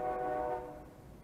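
A train horn sounds steadily from about three blocks away, a sustained tonal blare that fades slightly toward the end over low rumbling.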